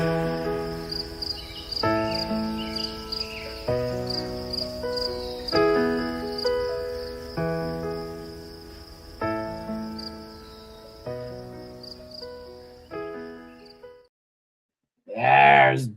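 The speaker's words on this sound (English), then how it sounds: "You can hear that sound. Crickets in the background." Crickets chirping at night outside the open window of a Chevy truck, a steady high-pitched chirring running under louder music, then a short vocal sound once the music stops.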